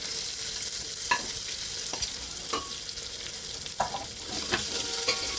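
Chopped onion sizzles in hot oil in a pan for tomato rice, a steady frying hiss broken by a few sharp spatula scrapes and clinks, close and continuous with no talking.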